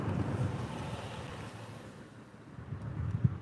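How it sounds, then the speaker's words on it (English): Steady wind buffets the microphone outdoors during an e-bike ride, a low rushing roar that dips briefly in the middle and swells again near the end, with no voices. "It's kind of windy out here."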